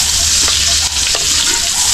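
Chopped onion sizzling as it fries in a pan at home, a steady broadband crackle with occasional sharper pops, close and fairly loud with no talking.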